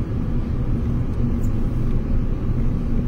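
A car crawls along a rough, damaged mountain road through forest in a valley, a loud continuous low engine rumble and road drone filling the cabin without pause.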